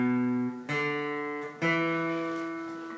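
A guitar plays the first octave of a pentatonic scale across strings, starting on the open low E sixth string. Three clear plucked notes ring out one after another, each sustaining and slowly fading, alone and close.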